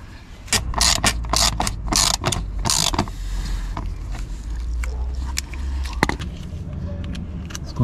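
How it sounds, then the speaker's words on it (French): Ratchet wrench unscrewing undertray screws beneath an Audi Q2 during an oil change, a run of quick clicking ratchet bursts up close, then quieter intermittent clicks over workshop background, with someone speaking French at times. "Ce qu'on va faire c'est qu'on va dévisser tout de suite celle du milieu."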